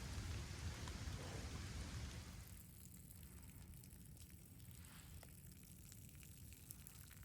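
Steady rain falling outdoors at a nature spring under oak trees, a dense hiss that is louder at first and then settles into a softer, even patter with scattered drops, no voices.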